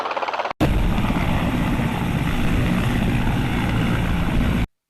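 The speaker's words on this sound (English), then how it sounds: "H for helicopter." Loud helicopter rotor roar, a dense steady thrum with rapid blade chop that starts abruptly after a short musical lead-in and holds at full strength before cutting off.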